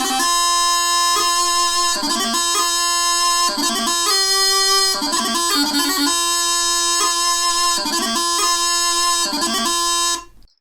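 A Highland bagpipe plays continuously over its steady drone, with crunluath a mach ornaments breaking the melody into quick, regularly repeating flurries of grace notes before it cuts off near the end.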